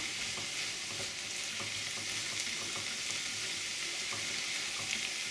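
Onions, leek and carrots fry in a stock pot, giving a steady, close broadband sizzle with faint crackles that stays even throughout, no voices.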